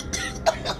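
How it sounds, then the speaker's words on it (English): A few short, close coughs in quick succession, harsh and breathy. "The coughing subsides."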